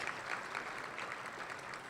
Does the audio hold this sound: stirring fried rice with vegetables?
no